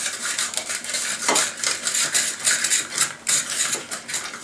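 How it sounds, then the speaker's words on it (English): Runner beans are fed through a small manual bean slicer, giving a rapid series of crisp clicking, rasping cuts in an uneven rhythm, close and fairly loud. "I get to use my posh little bean slicer here"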